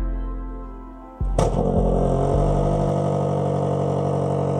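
Range Rover Sport SV with a 4.4-litre V8: the engine starts with a loud crank-and-catch burst, then settles into a steady, deep, even idle that carries on alone at close range.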